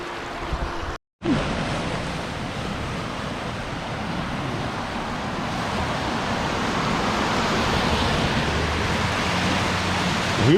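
A flooded brook running down off the hill west in northern Vermont roars continuously, a broad rushing wash that swells slightly louder toward the end after a brief cut near the start.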